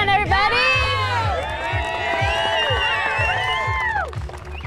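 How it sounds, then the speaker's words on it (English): Wedding guests cheering and whooping as a bride walks down the aisle, a loud burst of high excited voices and shouts from a crowd at close range, lasting several seconds. "When I heard people in the crowd start cheering"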